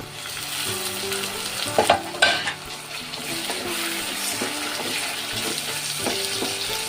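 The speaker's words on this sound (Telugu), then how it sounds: "ఆనియన్ ఇలా గోల్డెన్ కలర్లో ఫ్రై అయిన తర్వాత ఇందులో కట్ చేసుకున్న టమాటాలు పచ్చిమిర్చి" Cut tomatoes and green chillies hit golden fried onions in a hot pan, a loud close sizzle with clattering stirring and a couple of sharp spikes as they are added, continuing steadily without talk.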